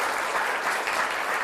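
Students in a TV quiz studio applaud steadily, a dense, even burst of clapping from a crowd that carries on without a break for the whole short stretch.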